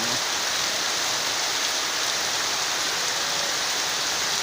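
Heavy wind-driven rain pours in a city centre, a dense, loud, unbroken hiss of water splashing on surfaces close by.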